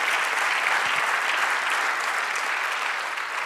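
A church congregation applauds in steady, dense clapping that holds evenly throughout, a full room of hands sounding at moderate distance with no voices over it.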